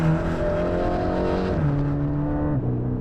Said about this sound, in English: So there's a typical kind of acceleration run,